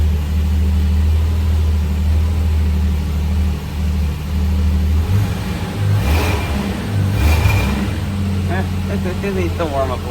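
A 55-year-old car's engine idles steadily with a low, even hum, then picks up briefly with a couple of blips midway before settling again, while people talk nearby.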